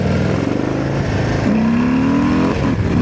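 A Harley-Davidson Low Rider ST motorcycle engine revs hard and climbs in pitch as it accelerates, loud and close, with steady road and wind roar underneath.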